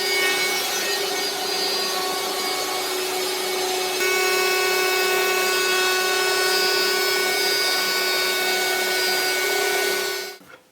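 CNC router cutting a clamped wooden garden stool top, a continuous loud whining, rasping cut with steady tonal hum that stops abruptly near the end, no voices.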